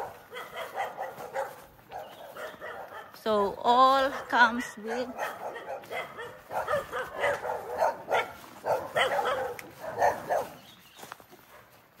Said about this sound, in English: the dogs are not happy with us.